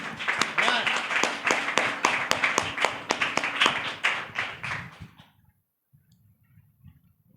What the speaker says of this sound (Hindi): ताली बजाए खुदा की महिमा के लिए